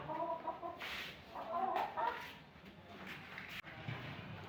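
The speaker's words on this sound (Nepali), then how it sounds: "कुखुरा पनि छ है" Backyard chickens cluck in short, irregular bursts near a family home, fairly faint and mixed with low background noise and a few distant voices.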